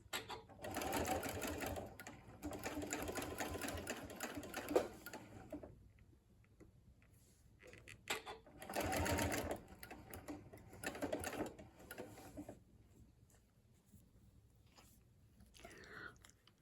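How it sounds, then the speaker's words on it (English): A sewing machine stitches pieced pinwheel quilt blocks together in several close, steady runs of rapid needle chatter, separated by short pauses and quieter handling of the fabric. "we're going to aim for sewing right through this point where this needle goes in"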